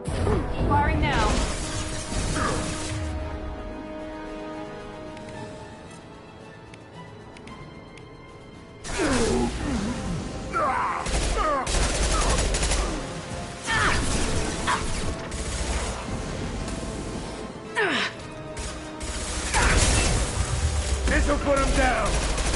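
Weapons fire in the sci-fi shooter Mass Effect Legendary Edition, with loud clattering bursts and metallic impacts that come and go through a busy battle, and speech can be heard at times.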